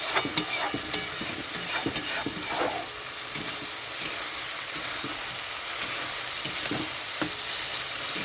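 Large freshwater prawns are sautéed in a pan for a prawn and potato curry, a continuous sizzle with irregular stirring scrapes and light knocks, louder bursts early and steadier frying later.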